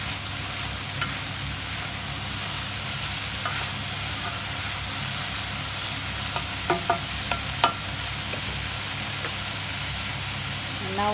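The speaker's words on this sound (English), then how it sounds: "I'm going to add the lime juice and just give it a mix." Beetroot curry stirred in a pan just after lime juice goes in, a steady low sizzle running throughout with a few soft scrapes and clicks of the spoon near the end.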